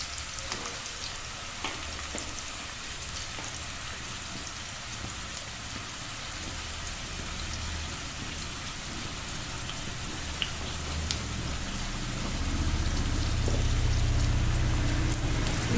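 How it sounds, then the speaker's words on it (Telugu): Onions sizzling in hot oil in a pan for a mushroom and egg curry, with a steady, dense crackle throughout that swells louder and fuller toward the end. "లైట్గా పింకిష్ కలర్ వచ్చేదాకా ఫ్రై చేసుకుంటాం"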